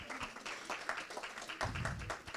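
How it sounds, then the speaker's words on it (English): A small audience at a financial literacy and wellbeing framework launch claps, with individual hand claps audible and uneven in a modest, fairly quiet room, and a low thump partway through. "So literally a round of applause for that within itself."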